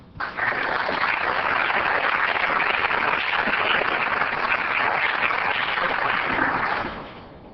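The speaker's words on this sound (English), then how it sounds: "Let's help Cindy celebrate with a round of applause." A round of applause fills a council meeting chamber, steady dense clapping from the audience for an honoree, holding loud and even for about six seconds before fading out.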